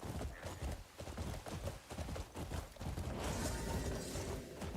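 Horse hooves clopping steadily while riding in the Crimson Desert video game, a dense rhythmic patter over a wash of rain and hail that swells louder toward the end.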